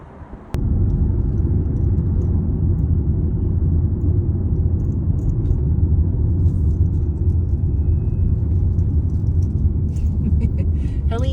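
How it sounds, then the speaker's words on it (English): Loud, steady low rumble of big trucks passing on the road, heard from inside a moving car, a continuous roar that holds for the whole stretch with faint rattles over it. "Big trucks coming at us."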